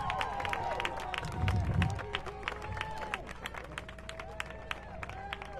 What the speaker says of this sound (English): Y'all give it up for the queen of the Alamance Alliance for Justice, Quintalyn Ellison.